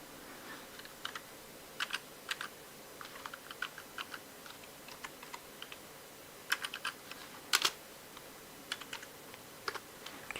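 Computer keyboard keys tapped in sparse, irregular clicks and short bursts over ten seconds, close and crisp against a quiet room.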